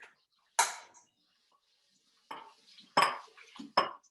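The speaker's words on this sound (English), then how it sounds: "So just going to carefully break our eggs." Eggs being cracked, a few sharp isolated taps and cracks with short wet trailing sounds, clear and close against near silence, spaced about a second apart.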